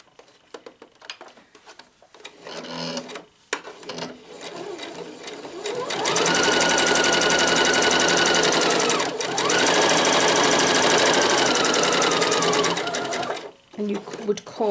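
A sewing machine runs in two long steady bursts stitching a bagged-out fabric pocket patch, briefly pausing between them to turn the corner with the needle down; the motor whirs close and loud, and a person speaks during the quieter stretches at the start and end.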